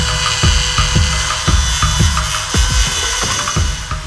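Power tool grinding metal away from the center bore of an expensive custom wheel, a rapid series of sharp rasping bursts about twice a second, loud and close with no talk.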